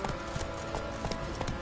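Roach the horse gallops in The Witcher 3, rhythmic clip-clop hoofbeats thudding steadily over a dense game ambience, moderately close.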